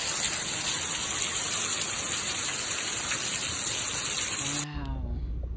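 Heavy rain and a broad rush of water, like floodwater, fill the scene steadily at close range before cutting off abruptly near the end; the outing coincided with flooding in Nevada around the Burning Man festival.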